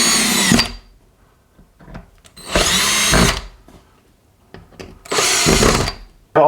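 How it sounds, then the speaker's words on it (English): A power driver spins a screw to set a speaker mount's turn locks into drywall, three loud close bursts of whirring separated by quiet pauses, with faint handling noise in between. "as we start to turn the screw to the right, these turn locks will flip out and grip the drywall."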